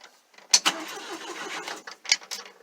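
A 1964 Volvo PV544, left off the road for 42 years, cranks over in two short bursts around a mid-clip churn, with a hollow mechanical rattle up close and no talking.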